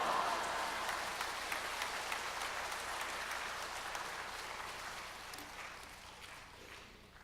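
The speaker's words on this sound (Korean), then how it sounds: "목사님 나오실 때 할렐루야 하고 박수로 맞이해 주시겠습니다." A church congregation applauds as the pastor comes forward at a Sunday worship service, a steady, dense wash of many hands clapping that fades gradually over several seconds, with no voices.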